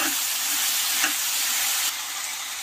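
Potato and bean curry with spices sizzles loudly and steadily in a hot pan while being stirred, a dense continuous frying hiss with faint scraping, no voice.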